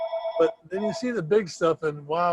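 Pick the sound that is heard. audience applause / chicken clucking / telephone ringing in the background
telephone ringing in the background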